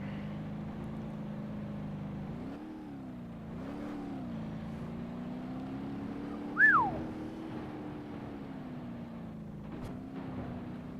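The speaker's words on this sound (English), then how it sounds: "Head gasket, piston rings that quick? Shit, dude, this motor is done." A Gavril Roamer inline-six engine fails in the BeamNG.Drive driving game, a steady low drone that rises and falls gently, with a brief squealing whine cutting in midway, fairly quiet overall.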